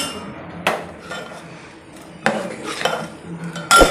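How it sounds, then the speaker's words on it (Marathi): A metal cooking pot holding cooked sour greens is lifted off the stove, with a few sharp clanks and scrapes of metal against metal spaced out close by, ending in a louder clatter. "आता हे मी खाली उतरून घेणार आहे पातेलं"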